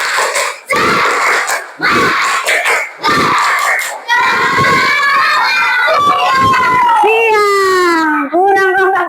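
A classroom of children loudly chants a spirit clap chant in unison, with short rhythmic bursts of voices and claps giving way to long, drawn-out shouted syllables.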